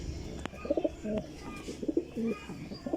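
Racing pigeons coo in a loft in a series of short, repeated throaty phrases, fairly close and clear against a quiet background with occasional light knocks.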